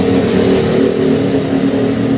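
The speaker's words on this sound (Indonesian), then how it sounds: "Suara motor aja merdu." A motorcycle engine runs loud and close, a steady throaty hum that swells slightly as it revs.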